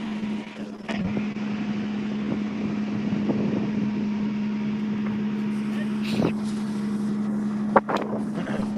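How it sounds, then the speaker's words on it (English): Steady desert wind roar with a low droning hum underneath, broken by a few sharp knocks and gusts, at a rally car stage start in Abu Dhabi. "it's really windy there"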